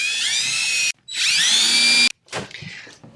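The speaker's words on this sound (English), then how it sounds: "Let's put 2 screws in there." A power drill drives screws into a wall stud while seamless backdrop paper is hung in a home studio. It whines loudly in two separate bursts with a short pause between them, then gives a brief stuttering rattle as a screw seats.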